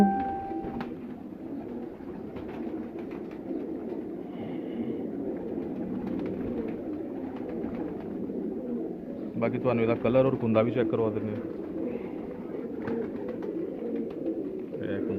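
Pigeons kept by a fancier coo in low, steady burbles throughout, with a louder run of cooing near the middle, while someone talks over them.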